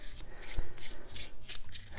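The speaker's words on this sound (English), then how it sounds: "You have to shuffle all the cards back into one deck." Playing cards for the board game For Northwood are shuffled back into a single deck, a close run of soft riffling and rubbing bursts with a few sharper slaps, steady throughout with no talk.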